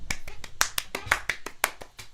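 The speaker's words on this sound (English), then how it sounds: "Everybody, round of applause for the Cass Fact" A small group gives a round of applause, a run of roughly a dozen distinct, close-sounding claps in a loose, uneven rhythm.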